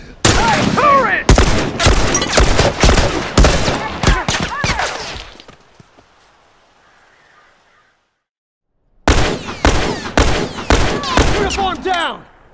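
Turret fire in The Last of Us Remastered comes as loud, rapid bursts of shots close by, stopping for a few seconds of near silence before another heavy burst resumes.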